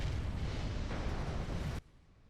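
A Corvette ship blows up in a Stargate: Empire at War space battle. A loud, dense roar of explosion noise holds for almost two seconds, then cuts off abruptly to a quiet background.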